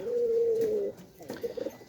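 A single drawn-out coo from a female racing pigeon held in hand sounds close by, followed by softer rustling and brief murmuring notes.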